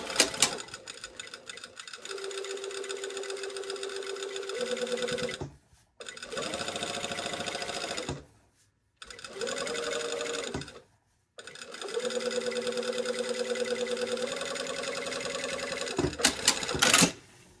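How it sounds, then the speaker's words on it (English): Sewing machine top stitching a dress about a quarter inch from the edge, running in several sustained bursts of rapid, even stitching separated by brief silent pauses. "I'm top stitching about 1/4 inch away."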